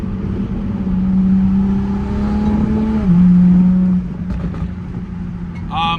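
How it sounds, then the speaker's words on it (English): A Toyota Supra making about 700 wheel horsepower, with a turbocharged engine running E85 and a Remark exhaust, revs and pulls hard. Its loud, steady engine drone rises in pitch across several seconds, then eases off. "My Supra has a pure 800 built transmission, E85, and remark exhaust. I think it sounds completely amazing"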